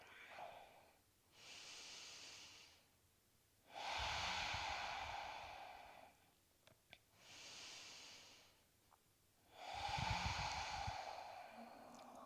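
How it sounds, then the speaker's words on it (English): Slow, deep yoga breaths during an evening flow: long, soft airy inhales and exhales alternating in a steady rhythm, close and quiet, with the fuller exhales stronger and pauses of silence between them. "And we'll take 2 more full breaths right here."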